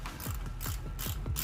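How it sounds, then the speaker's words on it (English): A ratchet tightens a bolt on a brake rotor shield of a Chevrolet S10 Blazer LS. Several quick clicking strokes come in a steady rhythm, close and fairly quiet, with no talk. "you start tightening the bolt down right there"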